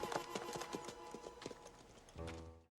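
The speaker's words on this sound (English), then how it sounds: "Fine horses." Horse hooves clip-clop along a street in Back to the Future Part III, a quick run of close, sharp hoofbeats ending in a lower sustained sound before a cut to silence.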